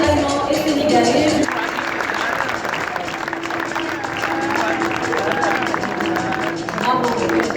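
Audience applause at a solar building competition's closing award ceremony, dense steady clapping from a crowd with cheering and a host's voice speaking over it.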